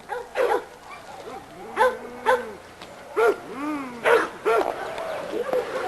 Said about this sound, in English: this is a dog called Hooten's Headhunter